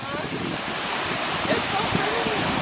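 A hidden waterfall in the Ontario outdoors flows with a steady, dense, broad rush of water that stays even and fills the whole moment, with no clear talking over it.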